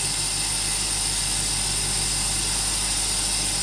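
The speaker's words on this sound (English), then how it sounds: "With my air compressor cycling one more time." A steady, loud mechanical hum and hiss from an air compressor running continuously, with no change in level throughout.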